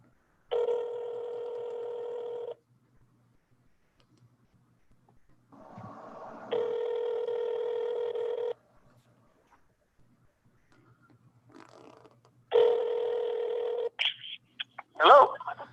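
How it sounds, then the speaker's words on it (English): Telephone tones sound in three steady bursts of about two seconds each, separated by quiet gaps, followed by short clicks and beeps as a phone call connects. "I'm dialing."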